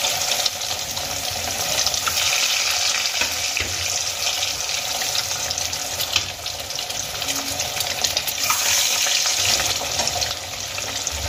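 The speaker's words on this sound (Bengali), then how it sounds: "এবার ডিমগুলোকে আমি ভেজে নেব।" Halved boiled eggs fry in hot oil in a pan for a Bengali egg masala curry. A loud, dense, continuous sizzle holds steady close by for the whole stretch, with no voices.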